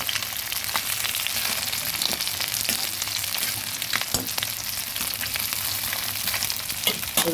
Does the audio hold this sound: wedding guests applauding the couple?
no